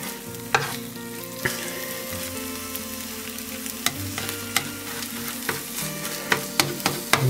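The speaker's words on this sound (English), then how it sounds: "let some fresh eggs start to cook there." Fresh eggs sizzle in a hot frying pan while fried rice is being made, a steady bright crackle and hiss punctuated by occasional clicks and scrapes of stirring, close and unaccompanied by talk.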